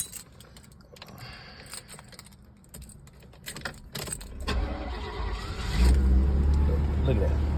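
A 1983 Cadillac Eldorado is started after some clicking and key sounds, then its engine catches and settles into a loud, steady idle close by, with a voice talking near the start.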